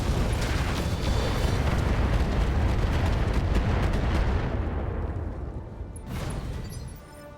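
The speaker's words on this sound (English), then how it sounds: "we're going to fire on the Shiltrin here. Let's see if we can take it out." A mech unloading all its weapons at once in the video game RogueTech, a dense roaring barrage of booms and blasts that tapers off, with a final burst near the end.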